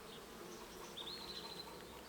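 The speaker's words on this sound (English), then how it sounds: "that's a lot of bees" Honeybees buzzing during a hive inspection, a soft continuous hum of many bees with one nearer bee's whine passing briefly close, quiet overall.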